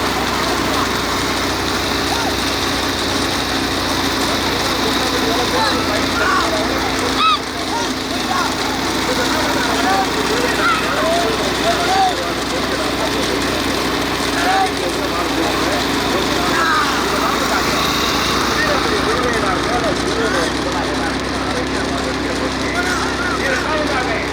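Racing motorcycle engines drone continuously at a distance during a bike race in Sevalpatti, Ramanathapuram district, while a commentator talks loudly over the noise without pause.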